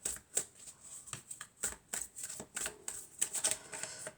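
A deck of Pleiades oracle cards is shuffled up close in quick, crisp riffling bursts, about a dozen rapid flicks over a few seconds with no voices.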